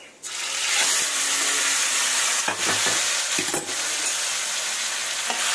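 Leafy greens hit hot oil in a pan and burst into a loud, sustained sizzle just after the start, with a few spatula scrapes and knocks as they are stirred.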